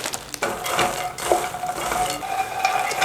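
Fox nuts fry in desi ghee while a spoon stirs them, producing a close, uneven crackle with repeated scraping and light clinks of metal against the pan.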